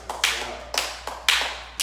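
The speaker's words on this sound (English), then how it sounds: "So y'all go ahead and clap it up for y'all" A few sharp, separate claps ring out close by, four or five in a loose, irregular rhythm.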